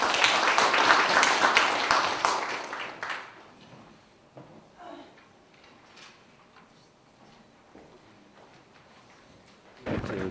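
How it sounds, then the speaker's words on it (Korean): An audience at a Korean academic commemorative event bursts into loud, dense applause welcoming a speaker, fading after about three seconds. A short second burst follows near the end, with quiet room noise between. "여러분 큰 박수로 환영해 주시기 바랍니다."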